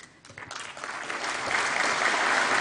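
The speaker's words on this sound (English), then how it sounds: "Kindly keep the applause going, ladies and gentlemen" An audience at the NHEA 2021 award ceremony in Vigyan Bhawan breaks into applause that begins thin and quickly swells into dense, sustained clapping filling the hall.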